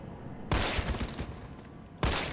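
Handgun fire in the Resident Evil 3 remake: two sharp, loud shots about a second and a half apart, each with a burst that trails off into a long, noisy decay.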